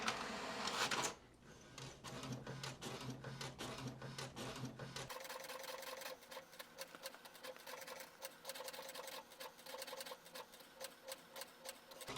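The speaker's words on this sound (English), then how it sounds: "it sounds like it's about to print something" An HP inkjet printer prints an alignment sheet with detailed lines, its carriage whirring and ticking in a steady mechanical rhythm, loud and close, with a brief louder stretch at the start before settling into repeated clicking passes.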